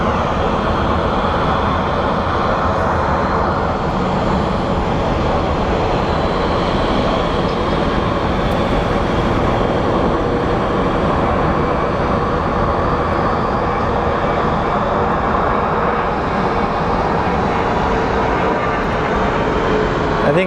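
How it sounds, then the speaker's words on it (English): Steady, loud roar of an Embraer 195 jet airliner at Phoenix Sky Harbor International Airport, a broad sustained rumble holding for about twenty seconds with no break. "I think it's like an Embraer 195, that's what they operate."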